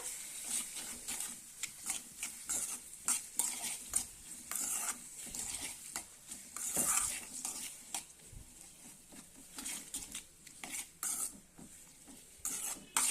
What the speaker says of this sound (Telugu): పచ్చిమిరపకాయలు ఆనియన్స్ బాగా ఆయిల్లోనైతే ఫ్రై అవ్వాలి